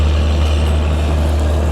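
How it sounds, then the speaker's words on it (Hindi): Diesel end-on generator on an Indian passenger train, Lucknow–New Delhi Mail, running at a station during shunting, a loud steady low drone with a constant hum close by. "सामने की ओर कोई गाड़ी भी लगी हुई है जिसका ईओजी क्या ही तो मस्त साउंड कर रहा है भाई, जनरेटर का क्या ही तो मस्त साउंड कर रहा है।"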